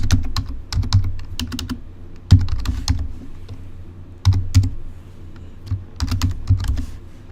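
Close, quick keystrokes on a computer keyboard entering a new folder name for an admissions department in document management software, coming in three separate bursts with brief pauses between them and no talking.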